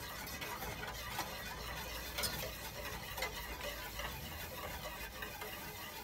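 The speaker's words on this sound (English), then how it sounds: "I'm going to start to whisk in my grits" Grits are whisked in a pot with soft, quick, repeated scraping strokes, quiet and close, with no talking.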